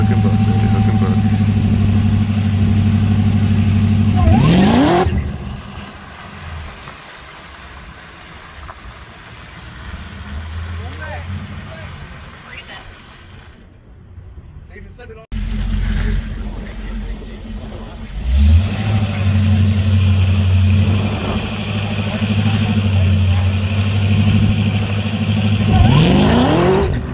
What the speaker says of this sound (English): First hit, wheel hop. Second hit, put her where it wasn't quite as sticky. Wheel hopped again.